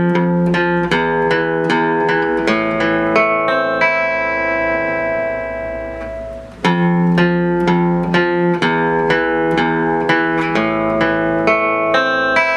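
Fingerpicked acoustic guitar playing a piece with bass and melody together; a steady run of plucked, ringing notes, a held chord letting strings ring around the middle, then the picking resumes, close and clear with no talking.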